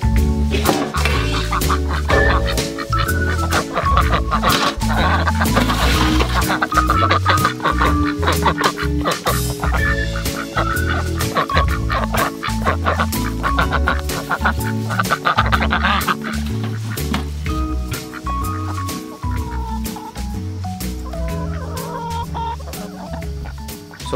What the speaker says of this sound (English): we've been letting our ducks and our chickens free range